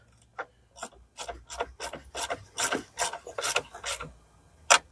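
Ratchet tightening the battery hold-down bracket on a Mazda CX9, about a dozen rapid raspy clicking bursts in an uneven rhythm, close and fairly quiet, ending with one sharper click.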